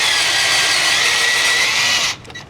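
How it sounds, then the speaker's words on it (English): Power drill boring a pilot hole in a Yamaha Tenere 700 motorcycle part, a loud steady high-pitched whine held for about two seconds before cutting off abruptly. "Let's go drill the pilot hole for the other side"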